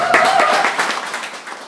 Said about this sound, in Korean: 우리 박수 한번 환영해 주시고